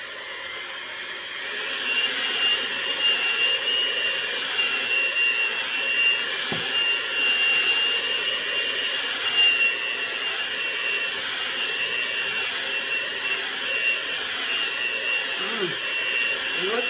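An electric mixer whirs steadily through blondie batter, a continuous mid-level motorised hum with a faint high whine, running throughout with small fluctuations and a few brief knocks.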